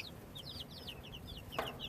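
Farmyard chickens clucking in a steady run of short, chattering calls at moderate distance, with a brief sharper squawk near the end over faint background rumble.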